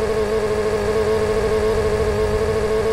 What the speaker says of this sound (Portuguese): Vamos ver o corta-giro dela.